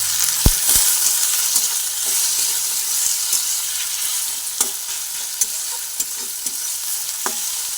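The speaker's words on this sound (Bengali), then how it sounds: "হলুদ গুঁড়ো দিয়ে আলুটা অল্প করে ভেজে নিই" Continuous hissing sizzle of potatoes frying in oil with turmeric, punctuated by sharp scrapes and clicks of a spatula stirring the pan.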